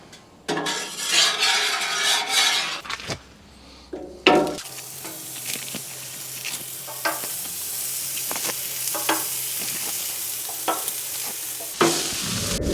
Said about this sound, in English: Here are our burgers that we're going to be using today. So let's put them on.